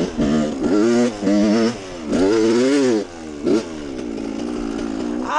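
A dirt bike engine revs hard and close while riding, rising and falling in several loud bursts before settling into a lower steady drone.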